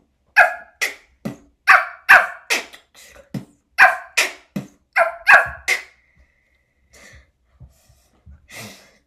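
A beatboxer imitates a dog barking with his mouth, giving a quick run of close, loud woof-like bursts, followed by a few fainter, softer barks after a pause.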